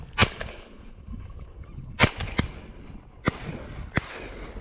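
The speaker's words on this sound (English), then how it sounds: "When you throw up and shoot that snipe" Shotgun blasts during a snipe hunt, several sharp cracks spaced a second or so apart against faint outdoor background, moderately distant and alone.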